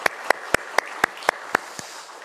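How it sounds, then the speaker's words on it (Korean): Slow, evenly spaced claps in church, about eight sharp strokes in a steady rhythm, the last one softer, with the room quiet between them. "하나님 앞에 영광의 박수 올려드리겠습니다"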